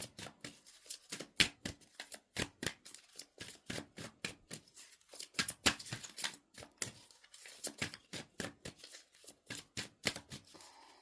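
Oracle cards being shuffled and drawn from a deck, a close, rapid series of crisp papery flicks and riffles with irregular bursts throughout and no voices.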